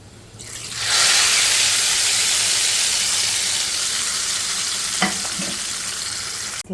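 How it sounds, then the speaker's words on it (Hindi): Hot tempering (baghar) is poured over Delhi-style shola and sets off a sudden, loud hissing sizzle that swells and holds steadily, with a couple of faint utensil knocks near the end. "अब हम इस पर बघार देंगे।"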